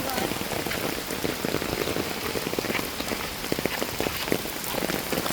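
Heavy rain falls steadily, a dense, even hiss with close pattering drops striking a surface for the whole stretch.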